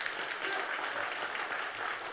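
A Korean church congregation claps to encourage its teachers during a Sunday afternoon service, a soft, even patter of many hands heard from a distance and sustained throughout.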